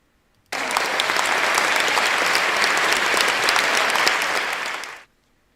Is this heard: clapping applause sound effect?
yes